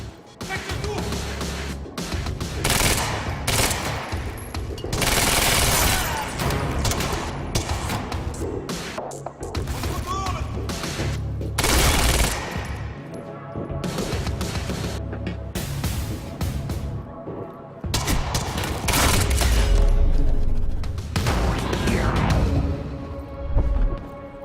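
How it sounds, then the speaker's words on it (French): Frequent bursts of gunfire and crashing impacts fill a chaotic firefight in the video game Quantum Break, with characters talking over the shooting throughout. "Pourquoi est-ce que Monarque nous tire dessus?"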